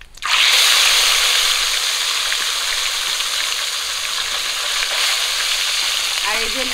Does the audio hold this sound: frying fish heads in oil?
yes